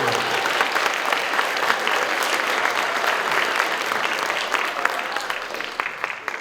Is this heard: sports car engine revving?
no